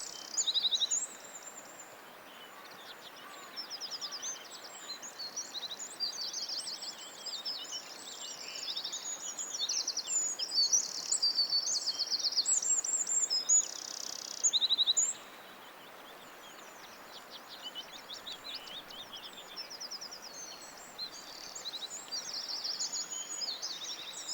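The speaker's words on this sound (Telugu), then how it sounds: "బర్డ్స్ సౌండ్స్ అయితే ఎంత న్యాచురల్గా చిర్పింగ్ సౌండ్స్ కొంతమందికి నచ్చుతాయి కదా, వినండి మీరు కూడా" Birds chirping at an exhibition, a steady stream of small, bright, high-pitched calls and tweets overlapping one another throughout, with a busier stretch in the middle and no talking.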